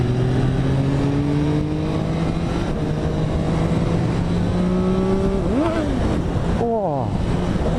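A Dragster 800 motorcycle accelerates along a dual carriageway, its engine note climbing steadily through the gears with a couple of quick pitch drops at shifts, loud and continuous under wind rush.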